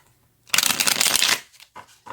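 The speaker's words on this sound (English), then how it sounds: "Let's get a few cards to see what we get. I'm going to shuffle" A deck of tarot cards is riffled in a close, crisp burst of rapid flutters lasting under a second, followed by a few soft taps and slides of the cards.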